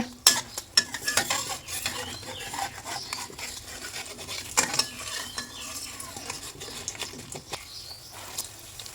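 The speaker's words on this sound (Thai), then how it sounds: "ค่อยๆแซะ เจียวไปเรื่อยๆนะคะ" A Thai omelette fries in hot oil in a pan over low heat, with a continuous sizzle broken by repeated scraping strokes of a spatula against the pan.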